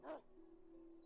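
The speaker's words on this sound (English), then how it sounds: "Dog noises!" Dog noise in the video game Ni no Kuni: a single short bark or yip at the start, then a faint steady tone lingering underneath, quiet overall.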